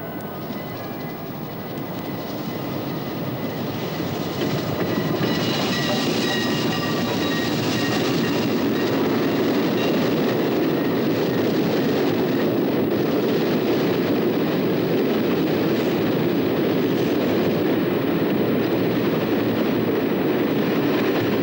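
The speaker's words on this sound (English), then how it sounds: "And then the train came in." A steam-era train rolls in at night, its rumble swelling from a distant hum to a loud, steady roar of wheels and rail noise that continues close by.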